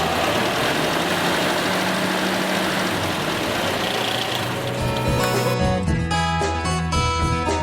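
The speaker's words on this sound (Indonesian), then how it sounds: "Engine pada putaran idle selalu mati." A car engine idles with a steady low rumble and a slightly uneven beat, then falters near the end into irregular, sputtering knocks as it stalls, loud and close with no voices.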